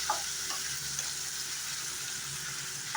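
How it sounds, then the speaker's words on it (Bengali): Potatoes, tomatoes and green chillies frying together in a pan make a steady, even sizzle close by, with a few light taps of stirring and no voices. "আলুর সাথে টমেটো আর কাঁচা লঙ্কাটা খুব সুন্দর করে ফ্রাই করে নেব"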